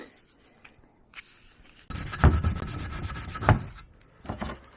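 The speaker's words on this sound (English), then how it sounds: "it's taking a bit of scrubbing here, but it's coming off" Close scrubbing strokes work paint off interior parts of a 1977 Camaro Z28 with gloved hands: a few faint rubs, then bursts of harsh rhythmic scrubbing with two louder swipes.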